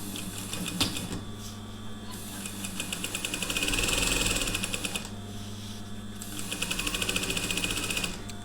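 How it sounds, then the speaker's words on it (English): Sewing machine stitching around the edge of a homemade shower cap, running in steady rapid bursts with brief pauses between runs, close and fairly loud with a low motor hum underneath and no talking. "I'm going to sew that all the way round until we come back to this point"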